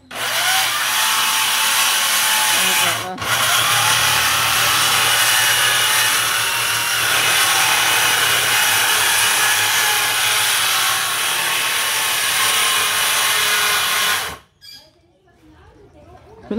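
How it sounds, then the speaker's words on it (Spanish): A power tool saws through wooden poles with a loud, sustained buzzing whine, briefly pausing once and then running steadily until cutting off near the end, close by, with possible voices in the background. "por acá tienen unos palos, están cortando"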